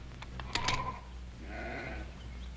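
A sheep bleats a couple of times at moderate distance over a low steady background hum, with no talk.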